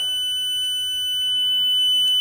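A faulty, end-of-life smoke detector sitting in a bucket of water emits a steady high-pitched electronic tone that holds throughout, moderately loud with little else around it.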